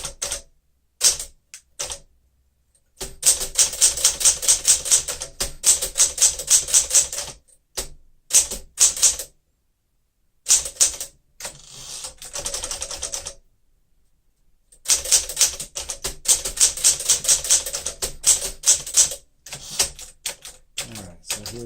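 A 1963 Smith-Corona Sterling typewriter typing in loud, rapid bursts of crisp keystrikes, with short pauses and silent gaps between runs, close and clear.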